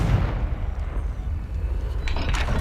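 The Confringo blasting spell from Hogwarts Legacy bursting as a loud, rumbling explosion with heavy low-end boom sustained throughout, followed by a couple of brief crackling impacts near the end.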